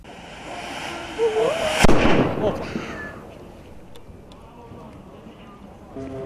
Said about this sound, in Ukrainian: Такий вибух відбувся на території нафтобази поруч із цистернами з бензином та дизельним пальним.